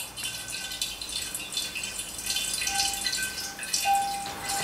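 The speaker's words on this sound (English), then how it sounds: "The water will then very quickly start to flow through" Water from a wine filter kit trickles through a filter pad, a steady soft flow with faint drips and light rattling.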